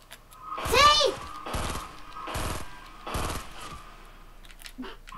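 Several bursts of video game gunfire in Fortnite, a few short volleys spaced about a second apart, with excited voices talking over the shots.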